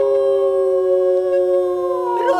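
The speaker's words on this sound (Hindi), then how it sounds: "गली का कुत्ता डॉल्बी साउंड में रो रहा है।" A street dog gives one long, loud, close howl, holding a steady wavering tone before the pitch bends and breaks at the end.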